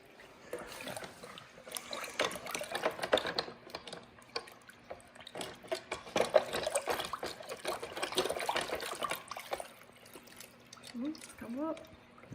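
A very dirty, greasy carburetor is rinsed and swished in a bucket of water, giving sloshing, trickling and dripping sounds of varying strength, with voices talking over it.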